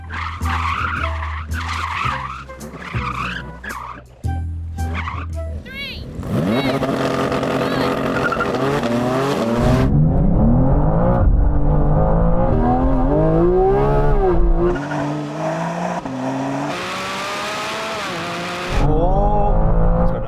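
A BMW M2 CS and a Porsche GT4 RS brake hard and drift on a race track. Loud, sustained tire squeal rises and falls over revving engines, with brief voices near the start.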